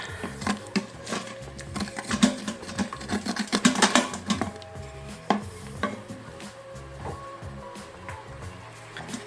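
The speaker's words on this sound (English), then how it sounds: "So I'm scraping it. See the silver bottom of the pan again." A utensil scrapes the metal bottom of an Instant Pot while deglazing a braised pork shoulder, making a burst of rapid rough scratches and clinks in the first half that fades into a quieter simmer with occasional taps.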